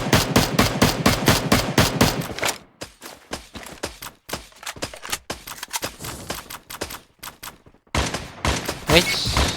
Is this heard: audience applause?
no